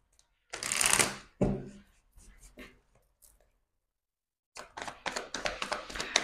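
Tarot cards being shuffled by hand, two bursts of riffling and sliding cards separated by a quiet pause, close and fairly soft, with no talk.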